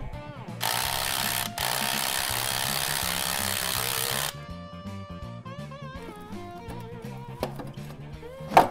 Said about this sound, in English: Now I'll get this last bolt out of this starter.